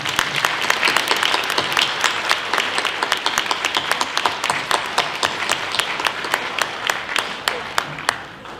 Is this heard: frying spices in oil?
no